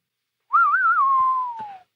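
A single whistled melody line, clear and close, wavering at the start and then holding a long note that slides downward, heard alone with no talk; a theme tune associated with Clint Eastwood.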